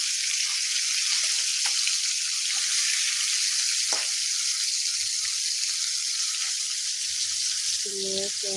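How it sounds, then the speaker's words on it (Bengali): Fish fry in a pan with a loud, steady hiss of bubbling oil that continues unbroken, and a faint voice near the end. "তার জন্য মাছগুলোকে প্রথমে ভেজে নিচ্ছি"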